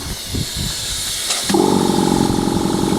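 A pneumatic electric gate starts moving in the wind with a loud, steady rushing hiss of air, which jumps in level and gains a buzzing mechanical hum as the motion begins, close up with no talk.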